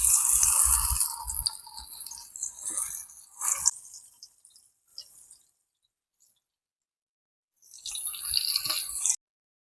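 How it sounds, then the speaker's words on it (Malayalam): Ivy gourd frying in hot coconut oil in a pan crackles and sizzles in close, loud bursts, fading to near silence before another strong burst of frying near the end. "കോയക്ക് പാങ്ങില് പൊരിഞ്ഞു"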